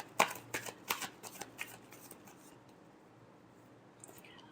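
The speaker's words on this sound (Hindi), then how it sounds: "Last shuffle." Tarot cards being shuffled by hand in a few quick riffling bursts, close and fairly quiet, then trailing off into near silence.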